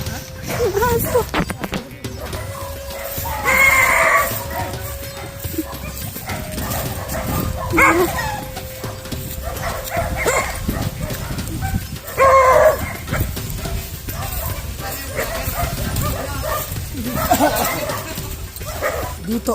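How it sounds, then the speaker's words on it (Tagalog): A dog barks repeatedly in a jungle, sharp yelping barks in irregular bursts over a busy outdoor background, with people shouting and talking nearby throughout. "Ang aso!"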